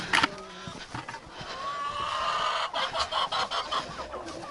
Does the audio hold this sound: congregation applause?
no